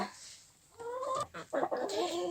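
Chickens in a small coop give short, close clucking calls in quick succession, with a little rustling between them.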